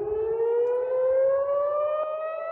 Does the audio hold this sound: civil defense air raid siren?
yes